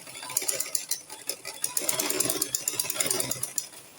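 A sewing machine back stitching the lining of a lace gown, giving a fast rattling mechanical run of stitches with short pauses, close and fairly loud.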